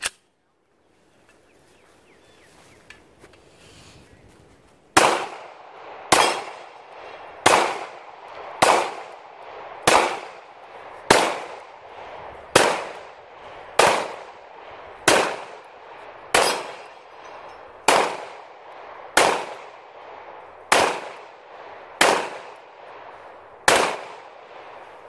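Fourteen sharp 9mm pistol shots from a CZ P10-C compact handgun ring out at a steady, roughly evenly spaced pace, each loud crack trailing off into a short echo after a few seconds of quiet.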